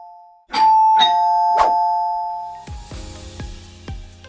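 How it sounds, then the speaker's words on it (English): A wireless calling bell fitted to a folding handrail, triggered by an RF switch and rated for a loud alarm of about 100 decibels, rings out in a series of bright, sustained chime tones followed by several quicker ringing strikes, close and loud. "Pressing the switch will immediately ring the bell."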